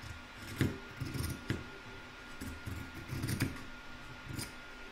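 Scissors trimming a piece of card into a fabric template, giving a close, quiet series of crisp snips spaced irregularly, with soft rustling of the card in between.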